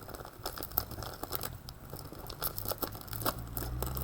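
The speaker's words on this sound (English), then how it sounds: "we're going to take the scissors, okay, and we are going to cut along here" Scissors cut open a plastic bag holding a pig heart for dissection, a close series of crinkly snips and rustling plastic, fairly quiet and with no talking.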